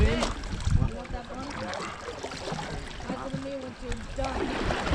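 Electric-motor kayaks out on the water during a summer group trip, with a steady wash of water and wind under the boats while several people talk and call to each other nearby.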